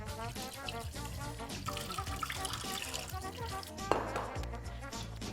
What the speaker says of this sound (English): It's better you wash with the cold water because they're already very hot.